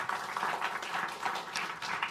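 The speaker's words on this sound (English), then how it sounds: "Let's give them a round of applause." An audience at an artificial intelligence panel event gives a round of applause, fairly quiet, steady scattered clapping across the room without talk.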